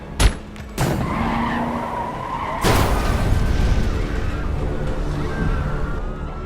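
After a sharp gunshot at a tire, a car loudly skids with a screeching tire squeal, then a heavy crash boom follows and a sustained rumbling noise continues in a film scene.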